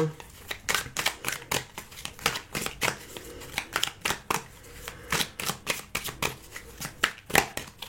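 Tarot cards being shuffled for a reading, a rapid run of crisp riffling slaps and flicks in irregular bursts, close and fairly quiet, with a voice speaking French over it.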